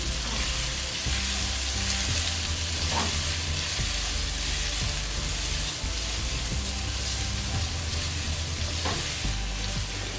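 Taro (arvi) frying with chopped onions in a pan until light golden, a steady loud sizzle throughout with occasional soft stirring knocks, no voices.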